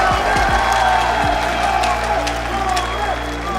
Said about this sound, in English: One more ovation from the crowd here.